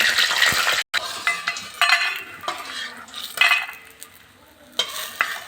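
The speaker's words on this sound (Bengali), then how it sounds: "এবারে বড়িটা আমি একটু ভেজে নেব" Lentil dumplings (bori) fry in hot oil in a wok, a hissing sizzle interrupted by repeated scrapes and clanks of a spatula stirring against the metal.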